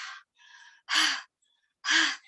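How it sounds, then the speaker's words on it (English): Heavy, breathy gasps after running, a few in a row with pauses between, close and fairly loud. "If you were running really fast, you might be tired and you might be breathing like this."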